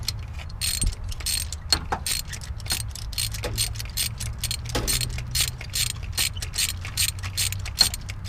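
A socket wrench ratchets steadily in a rapid clicking pattern, working a spark plug loose on a Dodge Dakota, close and moderately quiet with no talking.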